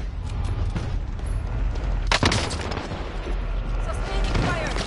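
Sustained gunfire in a shooter video game, rapid overlapping shots and bursts with a sharp louder crack midway, continuous and close, while a voice speaks faintly underneath.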